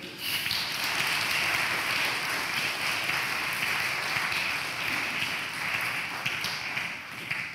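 Sustained applause from a seated audience at a panel discussion on the future of the automobile, a dense, even patter of many hands that fills the whole stretch without a break.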